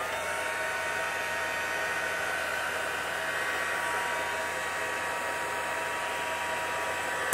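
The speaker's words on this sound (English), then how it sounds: "I want to dry this, so I'm going to go ahead and run my heat tool." A heat embossing tool blows steadily while drying craft paint, a continuous, even whooshing hum that holds for the whole stretch without talk.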